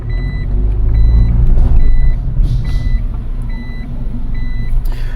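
A steady, high reversing beep repeats at an even pace over a loud, low engine rumble after a Mitsubishi Colt Plus is shifted into reverse.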